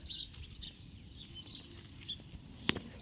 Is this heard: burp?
no